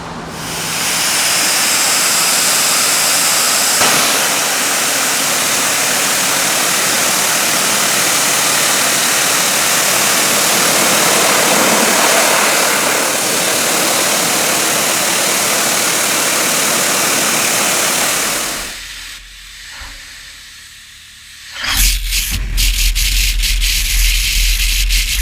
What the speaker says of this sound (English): Now let's do that high pressure water test on the AquaQuest Sport 30 backpack using this car wash.